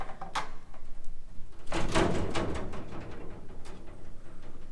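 An emergency exit door in an abandoned mechanical workshop is pushed open, giving a close, loud burst of scraping and rattling in the middle of a quiet, hollow room.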